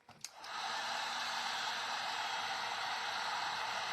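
Hair dryer blowing steadily on a mailbox being refinished, starting with a few clicks and knocks, then a loud constant airy whoosh close by for the rest of the time, with no talking.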